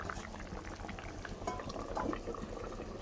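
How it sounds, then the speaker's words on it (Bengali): A Bengali fish curry with potato and tomato simmers steadily in a pot, giving a continuous close bubbling and popping with a low rumbling undertone and no talking. "মাছের ঝোলটা হচ্ছে, আলু দিয়ে মাছ দিয়ে ঝোল"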